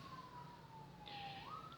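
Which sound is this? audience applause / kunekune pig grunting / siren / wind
siren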